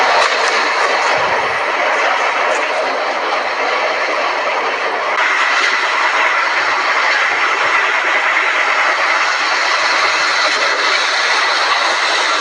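Train moving in a mobile video game, a constant loud synthetic engine roar and rushing hiss that swells slightly midway and keeps running without pause, no talk over it.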